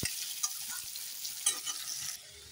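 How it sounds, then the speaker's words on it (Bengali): Potatoes fry in a pan, sizzling steadily while a spatula scrapes and tosses them in a few quick, close stirs before the sound drops away. "দেখো আস্তে আস্তে নাড়াচাড়া করতে করতে আমার আলুগুলো লাল লাল করে সুন্দর ভেজে নেওয়া হয়ে গেল"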